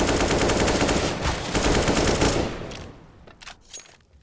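M4 rifles fire in Counter-Strike on the map Cache: rapid sustained automatic bursts rattle loudly, then thin out into a few scattered shots and sharp pops, with no talking.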